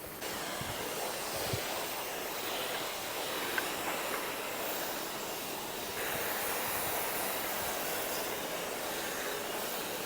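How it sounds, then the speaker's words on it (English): A foam cannon sprays thick foam over the top of a car during a decontamination wash, giving a steady broad hiss that runs unbroken for the whole stretch, fairly faint and even. "Okay, foaming over the top again."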